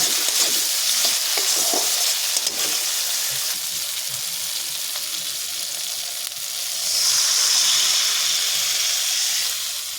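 Water added to hot, sizzling spice masala in a pan for a fish curry, a loud steady frying hiss that swells in a surge of steam, with occasional stirring scrapes underneath.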